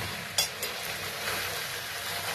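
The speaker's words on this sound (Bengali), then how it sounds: "মশলাটা দিয়ে এবার আমরা ভালো করে নাড়িয়ে চাড়িয়ে নেব" Fried masala is stirred into cooked chickpeas in a pan, giving a low steady sizzle broken by a couple of sharp spoon clinks against the pan.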